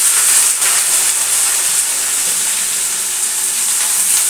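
Eggplant, potato and bottle gourd hit hot oil tempered with black cumin seeds in a pan, giving a steady, loud, close sizzle with a bright hiss and no talking.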